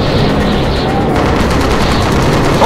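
Bomber gunners fire at enemy fighters in the Call of Duty: United Offensive bomber mission, a loud, dense, unbroken stream of rapid machine-gun fire with booming impacts throughout.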